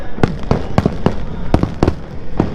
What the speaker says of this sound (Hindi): आप देख सकते हैं कितनी खूबसूरत आतिशबाजी हो रही है।